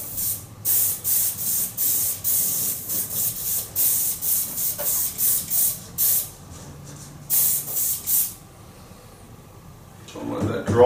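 An airbrush sprays metal flake paint thinned with high performance reducer onto a remote control car body, in a series of short, even hissing bursts with brief pauses, then quieter at the end.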